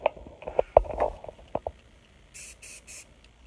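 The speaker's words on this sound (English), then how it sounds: "Spray it first." A new can of matte white spray paint gives three short hissing bursts near the end, close and distinct, after some scattered handling clicks and knocks.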